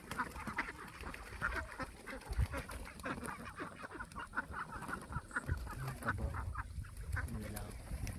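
Flock of seven-month-old ducks quacking and honking in continuous, overlapping calls nearby, with a person speaking faintly at times among them.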